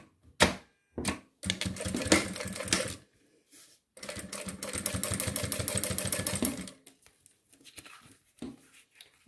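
A sewing machine topstitches a zippered tablet holder with its widest stitch, running close and fast in two long bursts of rapid, even clatter, with short starts and stops around them.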